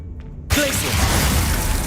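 An ice spell shatters in the Hogwarts Legacy game: after a brief quiet moment, a sudden loud crack bursts into a dense, sustained crunching roar that stays close and strong until the end.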